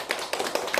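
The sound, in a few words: congregation clapping in welcome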